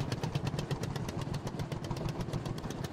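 Vintage Lizard HR5 tractor engine idling in Farming Simulator 22, a steady close, loud rapid chugging with a clattery rhythm that runs unbroken throughout.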